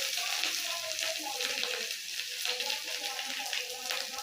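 Onions frying in a pan give off a steady, close sizzle with faint stirring and splashes throughout, and no voices are heard.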